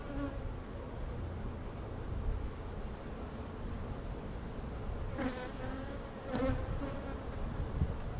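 Honeybees hum around an outdoor beehive in mid-March, a steady close drone of many wings with a few louder individual bees passing near, and no talk.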